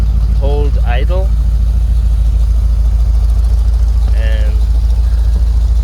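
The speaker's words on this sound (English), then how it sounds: "Now we got it running and warmed up a little bit. Now it's able to hold idle," A 1979 Chevrolet Corvette C3, warmed up, idles with a loud, steady low rumble throughout, while someone talks briefly over it.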